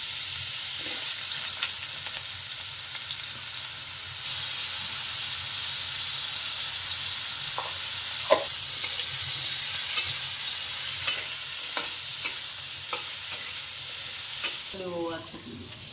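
Potatoes frying in a pan for a button mushroom curry, a long even sizzle with irregular scrapes of stirring, close and fairly quiet with no talking.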